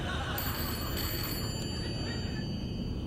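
A telephone rings with steady high tones over a dense, noisy background bed, fairly loud and continuous through the moment, no talk heard.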